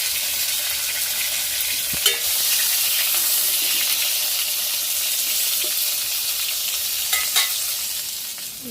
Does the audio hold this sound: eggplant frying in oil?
yes